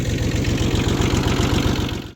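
A tractor engine idles close by with a heavy, steady rhythmic chugging that stays even before cutting off at the very end.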